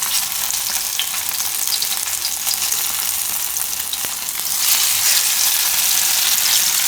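Pea and sabudana tikkis shallow frying in oil in a pan on low heat, giving a dense, loud, steady hiss that swells slightly toward the end.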